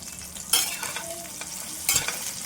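Brinjal pieces frying in oil, a soft continuous sizzle broken by two bursts of stirring scrapes, close and quiet, with nobody speaking.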